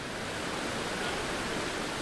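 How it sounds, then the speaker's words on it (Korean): Great Falls on the Potomac River in Virginia sends water through jagged rocks and a narrow gorge, producing a loud, constant broadband roar with no break. "버지니아 사람들이 작은 나이아가라 폭포라 부르는 곳이다."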